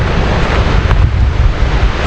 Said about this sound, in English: It's like the biggest waterfall I've ever seen